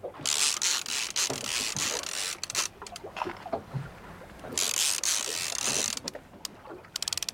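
Fishing reel being wound in on a boat on Port Phillip Bay, a ratcheting mechanical whir in several bursts, with clicks and gaps between the winds.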